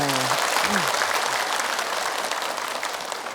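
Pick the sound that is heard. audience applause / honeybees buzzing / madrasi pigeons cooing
audience applause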